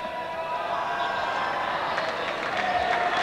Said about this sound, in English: the crowd raised its biggest cheer of the day when Rod Marsh gave the gloves to Wayne Phillips and decided to have a bowl